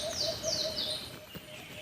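Alimokon dove chicks calling from a tree, a repeating series of thin descending chirps, about four calls in quick succession against quiet outdoor ambience.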